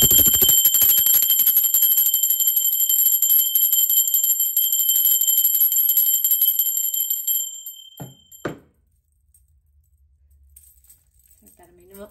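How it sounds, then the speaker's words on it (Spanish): During a tarot reading, a bright sustained bell-like chime rings loudly for several seconds, then cuts off, followed by a couple of soft knocks and near silence. "todavía no fue campana. Y ahora sí va campana."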